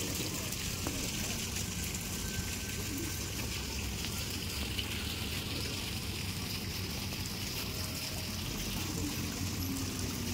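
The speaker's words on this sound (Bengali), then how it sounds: "জল পড়ছে।" Water pours and trickles steadily at a restaurant garden with flowers in Krishnanagar, a continuous splashing wash that runs through the whole stretch alongside background ambience and faint voices.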